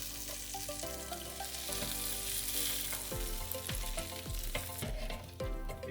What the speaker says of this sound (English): And let's flip the burgers.